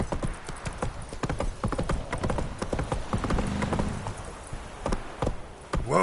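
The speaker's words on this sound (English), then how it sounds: "Whoa there, Roach" Horse hooves clip-clopping in The Witcher 3, a quick steady trot of close, distinct hoofbeats on hard ground that slows near the end, with faint game ambience and no talking.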